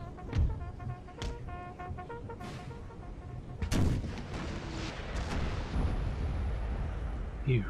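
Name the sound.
howitzer artillery fire in the video game Napoleon Total War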